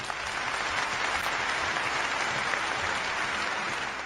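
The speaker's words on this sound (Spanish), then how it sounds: "¡Un aplauso!" Steady, dense applause from a group, an even wash of clapping that holds at a constant level for a few seconds with no voices standing out.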